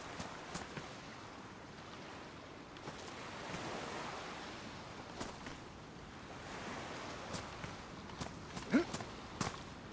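A DayZ survivor wades through water on Sakhal, with a steady rush of wave and wash noise and scattered splashy steps, moderate and even, with a faint voice now and then.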